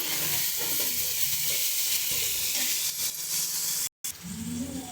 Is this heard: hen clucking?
no